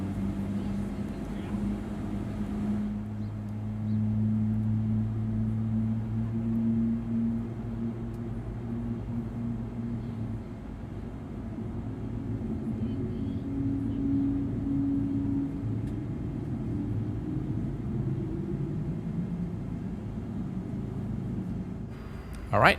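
Airbus A350 engine starting up in the X-Plane 12 flight simulator, a steady low rumble that holds for the whole stretch with a rising tonal whine, while someone talks over it.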